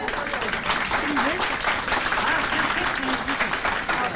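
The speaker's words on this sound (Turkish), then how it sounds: "Alkışlar Türkler için ve sizin için geliyor." An audience applauding steadily, dense clapping from many hands that holds at an even level throughout, with voices mixed in.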